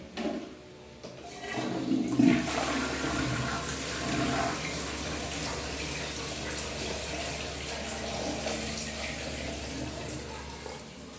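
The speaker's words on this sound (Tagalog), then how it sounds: "Pa-flush ulit natin to." A clogged toilet flushes with a loud rush of water that settles into steady running and refilling, continuing for several seconds.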